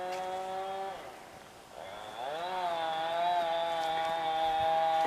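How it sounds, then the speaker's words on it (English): A chainsaw cutting trees somewhere on a mountain property drones in the distance, a steady whining tone that dips briefly and then revs back up, moderately faint against a quiet outdoor background. "The chainsaw actioning continues."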